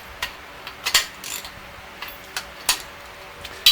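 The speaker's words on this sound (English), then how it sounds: "I'm just going to go ahead and tighten these by hand with a small ratchet" A small ratchet snugs bolts by hand on a Chevy 454 big-block engine, giving soft, quick clicking pawl ticks in short irregular bursts, close and fairly quiet with no talk.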